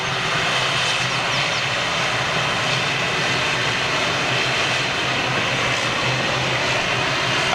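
A Cathay Pacific airliner under tow to the gate at Manchester airport, its steady, loud broadband engine roar and rumble filling the whole stretch without a break.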